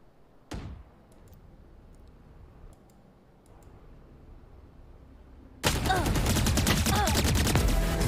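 Valorant gunfire erupts after a quiet stretch, with a sharp single shot early and then a dense, loud run of rapid shots filling the last seconds.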